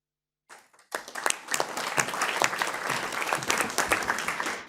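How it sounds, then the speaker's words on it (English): Workshop audience applauding a speaker at a multi-stakeholder platform kick-off, a dense, steady patter of many hands clapping that starts abruptly after a brief lead-in and holds at an even level throughout. "there is also applause for the previous speaker"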